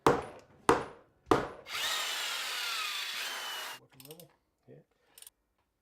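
Hand and power tools work old wooden wheel parts: three sharp strikes, then a sustained loud grinding or sawing burst lasting about two seconds, followed by brief scraping and ratcheting sounds fading out.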